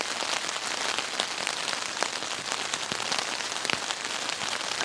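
Steady rain falls on a cold morning campsite, a dense, constant patter with scattered sharper drops throughout and no voices.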